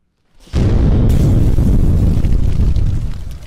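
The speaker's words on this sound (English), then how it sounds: "I'm going to use a Kane pyrotechnic explosion effect to teleport myself to my basement" A loud Kane-style pyrotechnic explosion effect erupts suddenly after a brief silence, a sustained roaring boom and rumble that holds steady for about three seconds before easing slightly.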